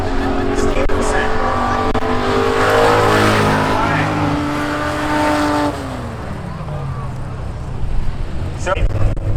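Race cars roar nearby at Seekonk Speedway during spectator drag races. Loud engines rev and whine with rising and falling pitch, then fade as the cars pass, and a voice talks over part of it.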